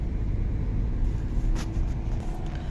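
A truck or car drives fast along a road, heard as a steady loud low rumble of traffic with a brief rushing swell as it passes close.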